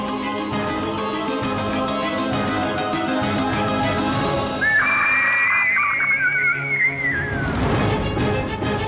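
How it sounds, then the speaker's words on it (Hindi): A shrill, high lapwing call cries out a few times over steady background noise, sharp and fairly near. "ये तो टिटहरी के चीखने की ध्वनि है।"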